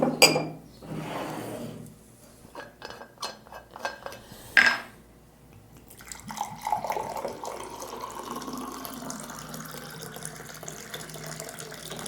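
Water poured into a glass beside dishes and cutlery clinking at a kitchen sink, a faint trickle running several seconds after a few sharp clinks, no voices.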